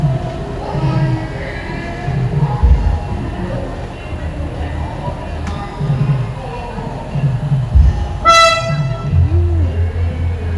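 A train on the Tuntang–Ambarawa line sounds one short horn blast over a steady low rumble and background voices.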